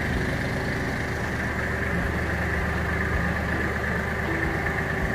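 A Kubota GL23 mini tractor with a front loader runs steadily at a constant idle-like drone while the loader lifts, a continuous mid-low engine hum with no voices.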